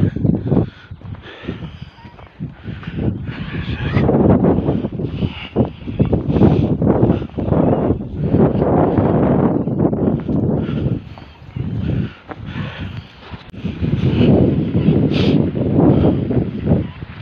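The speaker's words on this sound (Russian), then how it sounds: "Ветер небольшой, но холодный." Gusty, cold wind buffets the microphone in waves, rising and falling with rustling, interspersed with scattered footsteps and a brief voice.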